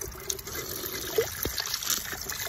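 Ice-cold water runs steadily from an outdoor tap, a continuous close trickling and splashing flow at moderate level with no talking.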